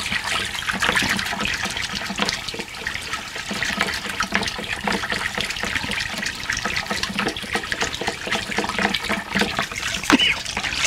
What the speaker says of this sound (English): So you just give this a little stir.